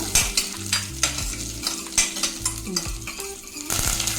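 Chopped green chillies fry in a pan, a bright continuous sizzle broken by regular scraping strokes of a spatula against the metal, close and fairly loud, with a low hum beneath and no talking.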